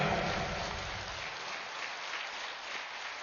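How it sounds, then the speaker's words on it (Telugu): A seated audience at a spiritual talk breaks into steady, sustained applause, a dense wash of many hands clapping at moderate distance with no talking over it. "గట్టిగా చప్పట్లు కొడదాం పత్రి సార్కి గట్టిగా"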